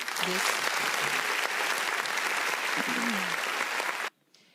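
An audience gives a sustained round of applause for a guest, dense clapping with a few voices mixed in, lasting about four seconds before cutting off abruptly to near silence.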